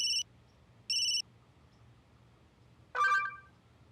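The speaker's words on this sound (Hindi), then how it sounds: "अनीश का वीडियो कॉल अचानक? छोड़, मत उठा।" A phone rings with an incoming video call: two short, bright electronic ringtone bursts about a second apart, then a louder, fuller chime after a pause, alone in a quiet room.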